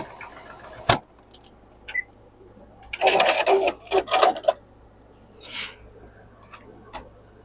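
A domestic sewing machine joins Tula Pink quilt blocks in short whirring bursts with pauses in between, with a few sharp clicks and knocks.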